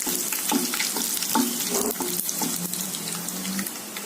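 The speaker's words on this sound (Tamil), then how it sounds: "இப்போ வெங்காயம் போடுறேங்க வெங்காயம் நல்லா வேகணுங்க" Sliced onions fry in hot oil for a Chintamani chicken, with dried red chillies in the pan, giving a close, steady sizzle broken by scraping stirs and a few clinks.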